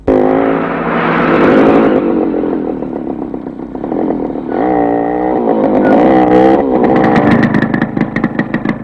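An engine revs and clatters close by, rising and falling as the vehicle turns around. It sounds like a motorcycle, with steady roaring through the whole stretch.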